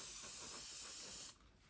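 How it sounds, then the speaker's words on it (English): Aldi Lacura hairspray sprays in one steady hissing burst onto an eyebrow brush, loud and close, then cuts off abruptly and leaves a quiet room. "I literally just spray my brush"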